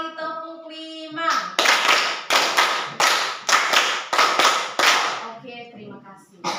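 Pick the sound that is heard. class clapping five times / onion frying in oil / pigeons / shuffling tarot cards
class clapping five times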